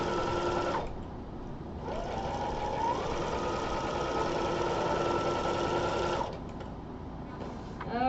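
A sewing machine fitted with a walking foot stitches a skirt, its steady mechanical whir running in long continuous stretches with brief pauses between seams, close and clear.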